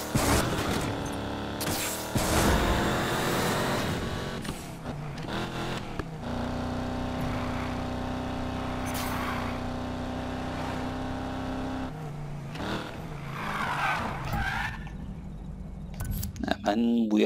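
A Chevrolet Camaro SS engine drones and revs through a Need for Speed Payback drag race, with sustained loud engine tone, gear shifts and brief surges, while someone talks over it.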